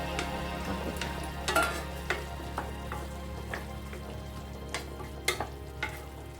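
Ivy gourd and tomato fry in a pan over low heat, a soft continuous sizzle and crackle close by, broken by several sharp spits and stirring scrapes, with a low steady hum underneath.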